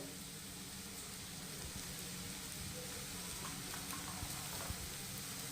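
Spices sizzle and fry in a pan while being stirred, a steady soft hiss with faint scraping through the whole stretch, heard quietly and without voices.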